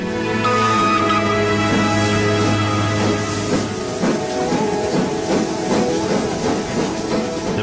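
Nilgiri Mountain Railway steam toy train in the Indian hills: a loud, steady hiss of steam with a low mechanical hum, then rhythmic chuffing and clanking as the train works along the track.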